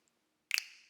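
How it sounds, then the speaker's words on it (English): A single sharp finger snap sample from a remix intro cracks once, bright and close, and then decays quickly into silence. "I start off with the snaps."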